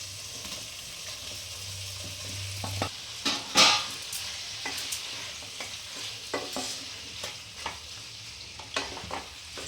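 Pre-fried vegetables dropped into hot oil and stirred while cooking a pumpkin and Malabar spinach ghonto, with a steady sizzle, a thump and scrape as they go in, then scattered spoon clicks and scrapes, close and alone.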